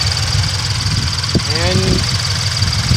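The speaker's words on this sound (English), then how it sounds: "Under the hood? Also has an engine." A car engine idles with the hood open, a steady low rumble and hum close by, while a voice briefly speaks over it.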